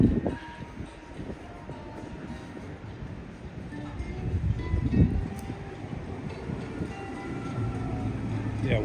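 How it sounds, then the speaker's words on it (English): A Keio Inokashira Line train runs above ground in Tokyo on a December morning, a steady rumbling roll with rising and falling clatter that swells near the middle, heard at moderate distance amid street ambience. "one of the train lines here is the Keio Inokashira line, which goes above ground"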